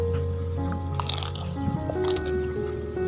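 Close crunching bites into crispy-skinned bread with a soft potato filling, followed by moist chewing, with brief low background sound.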